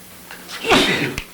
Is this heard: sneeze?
yes